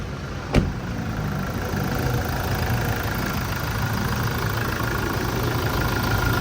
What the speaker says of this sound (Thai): สตาร์ทแล้วมาฟังเสียงเครื่องโดยเร็วครับ